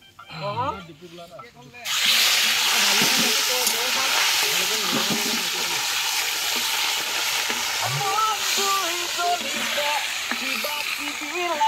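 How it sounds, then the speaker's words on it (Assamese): Small potatoes sizzle and hiss steadily in hot oil over a wood fire at an outdoor family picnic, starting abruptly and staying loud and close while people talk over the frying. "সৰু আলু ভজা।"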